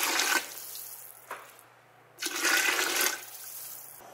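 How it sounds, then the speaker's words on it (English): Broth poured into a pot of softened sautéed vegetables, two bursts of splashing liquid, the second longer and steadier, with a quiet pause between them. "they're soft now, so I'm gonna put broth in"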